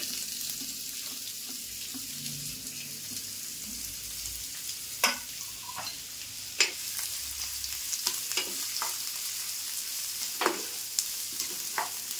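Onion frying in a pan, a soft continuous sizzle close by with sharp intermittent clanks and scrapes of a spoon stirring against the pan.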